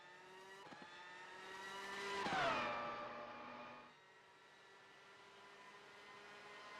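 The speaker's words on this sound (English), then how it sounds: "So, points leader Louis Foster, first car out on track." Race car engine circling Watkins Glen in a racing video game qualifying session, a steady harmonic drone that swells to a louder, higher rev in the middle before easing back to a lower hum, with no talk.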